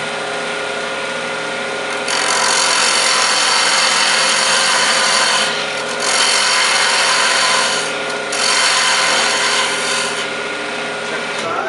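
A wood lathe turns and cuts the top piece of a flute end cap, a loud steady broadband cutting hiss with several surges as the tool bites deeper, running continuously with no talk.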